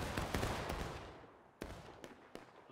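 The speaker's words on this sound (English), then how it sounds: "Just two big volleys" An infantry company in the War of Rights game fires a musket volley: a loud rolling burst of overlapping shots that fades out, followed by scattered single musket cracks at a distance.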